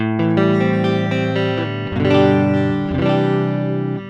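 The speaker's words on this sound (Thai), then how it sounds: "ก็จะมีสปีกเกอร์ซิมอันนี้คือเสียงเปล่า ๆ ที่ยังไม่ได้เปิดเลยเลยนะครับ" An electric guitar played through a Tech 21 Richie Kotzen RK5 Fly Rig v2 via XLR out, with the speaker simulation off, rings out in sustained distorted chords that shift twice, bright and close, with no voices.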